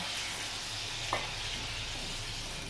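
Fish frying in a pan, a continuous soft sizzle close by with one brief splash or stir in the middle as liquid goes in, no talking.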